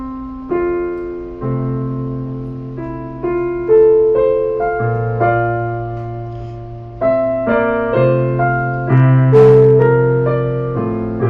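Solo piano plays a simple piece in an even, steady beat. Each chord or note is struck separately and rings out and fades before the next, heard close and clear with nothing else over it.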